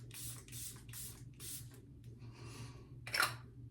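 Setting spray misted onto a face in several short, airy bursts, then a brief louder hiss followed by a faint click, over a steady low room hum.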